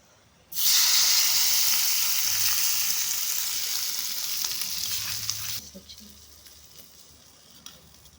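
A loud burst of sizzling as a hot oil tempering with curry leaves is poured into ridge gourd chutney, hissing strongly for several seconds before fading and cutting off.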